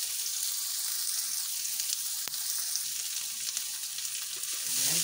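Garlic and onion sauté in a hot pan for a Filipino-style chicken curry with coconut, giving a steady, close hiss and crackle of frying with a single faint clink partway through.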